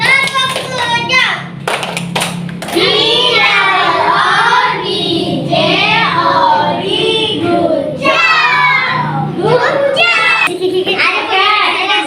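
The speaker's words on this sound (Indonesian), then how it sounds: "Tepuk gojok untuk kita semua" A group of children claps a rhythmic classroom cheer pattern while children's voices chatter and call out loudly throughout.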